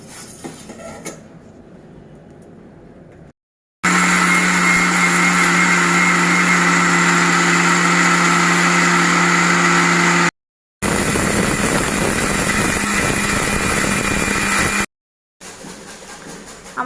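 A kitchen blender grinds roasted lentils and sago for homemade baby cereal, a loud steady motor whine running in two long bursts with short pauses between, quieter room noise before and after, no voices.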